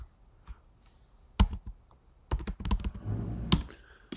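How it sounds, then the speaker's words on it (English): Sparse, hesitant keystrokes on a computer keyboard, a few isolated clicks followed by a quicker cluster of taps, close and fairly quiet. "You can type better than that."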